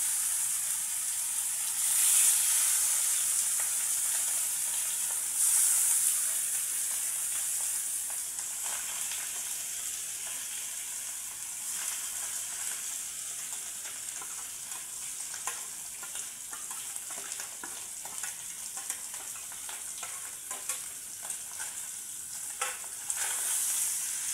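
Pabda fish laid one by one into hot oil in a frying pan sizzle loudly and steadily, a close continuous crackling hiss with scattered pops and no talking.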